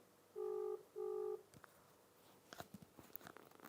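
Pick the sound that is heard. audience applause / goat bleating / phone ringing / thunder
phone ringing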